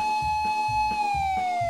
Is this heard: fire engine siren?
yes